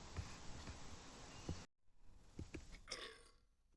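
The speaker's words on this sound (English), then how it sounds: "To burp. You should not burp in public." A single burp, close and fairly loud, followed by a quieter guttural gurgle after a brief pause, alone with no talk.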